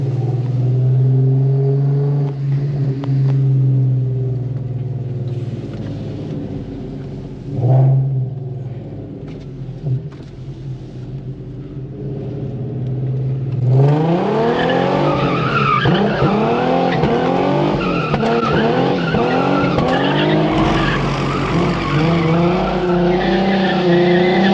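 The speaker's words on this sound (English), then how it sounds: "Get a couple donuts in." A tuned Infiniti Q50 spins donuts on a rain-soaked lot, its engine droning and rising in a long slide, then revving hard from about fourteen seconds with wavering, sweeping engine pitch and squealing tires, loud and close throughout.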